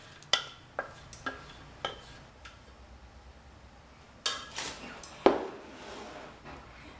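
Strawberry rhubarb mixture spread across a pan: a string of soft, sporadic scrapes and taps of utensil on pan, quiet and close, with a couple of louder clatters near the end.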